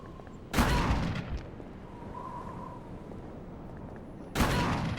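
Two loud, sharp gunshot blasts in Call of Cthulhu: Dark Corners of the Earth, one near the start and one near the end, with a quiet ambient pause between.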